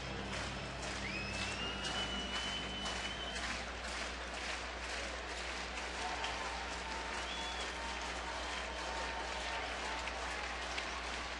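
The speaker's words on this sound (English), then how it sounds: "you can hear the crowd getting on the first call" A big crowd at a night baseball game in St. Louis swells into a broad, steady roar of cheering and applause that holds throughout, with faint whistles rising above it.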